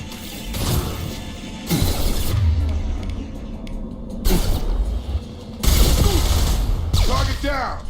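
Shotgun blasts and gunfire in the Mass Effect video game, loud bursts of shots and clattering impacts in repeated waves, with voices shouting now and then.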